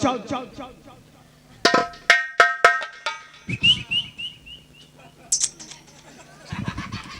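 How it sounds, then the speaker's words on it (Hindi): A person whistles in sharp, repeated bursts, a run of short shrill tones and then a few longer ones, close and loud, with brief talk around them. "सीटी क्यों मार रही हो?"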